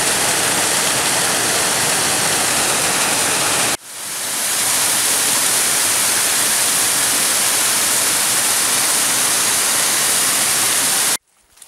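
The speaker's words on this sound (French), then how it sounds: "Elle faisait beaucoup trop de bruit avec ces eaux tombantes." Loud, steady roar of falling water from a waterfall, filling the sound with dense hiss, briefly broken near four seconds before resuming at full strength, then cutting off at the end.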